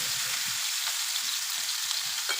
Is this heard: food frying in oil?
yes